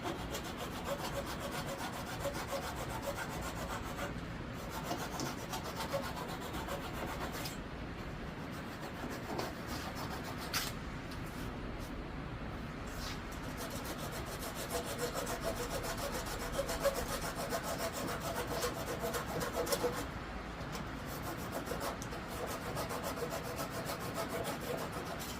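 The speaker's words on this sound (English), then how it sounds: "And then I'll tune that up with a chisel and a scraper." Steady rubbing and scraping of a chisel and scraper trimming a wooden breadboard edge, continuous and close, with faint scattered knocks and no talking.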